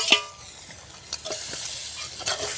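Fried fish being tossed into a masala, with faint sizzling and a few soft scraping stirs at low level throughout.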